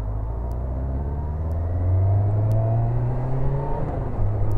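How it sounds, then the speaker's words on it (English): Cars driving along a road nearby, a steady low engine rumble that swells and shifts in pitch as vehicles pass, continuous with no talking. "Why are there so many cars down here today?"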